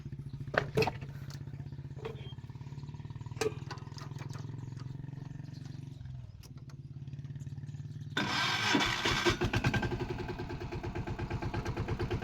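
A village tractor engine chugs at a steady low idle, dips briefly, then revs up louder and rougher near the end, close by and with no talking.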